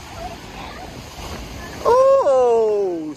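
Ocean waves wash onto the shore at Carmel beach, a steady broad rush of surf and wind that runs throughout, with a person's drawn-out exclamation rising over it near the end.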